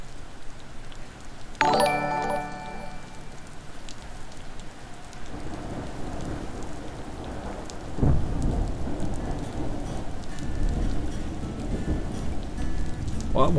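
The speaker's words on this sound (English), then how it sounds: "Why is it like raining super hard like this?" Heavy rain pours in a dense, constant roar while thunder rumbles twice, a sharp crack followed by a low rolling boom, with an electronic chime early on.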